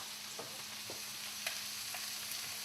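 Onion frying in a pan for fried rice, a steady soft sizzle with faint intermittent crackles and a low hum underneath, no voices.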